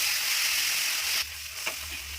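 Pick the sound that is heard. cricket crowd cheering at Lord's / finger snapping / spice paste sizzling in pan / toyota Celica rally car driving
spice paste sizzling in pan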